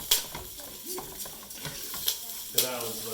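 Rice sautéing in avocado oil in a pan for Brazilian rice, a soft sizzle with light stirring and a few sharp scrapes of a utensil against the pan, close and fairly quiet.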